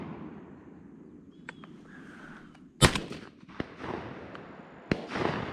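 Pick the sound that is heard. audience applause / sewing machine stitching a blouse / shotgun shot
shotgun shot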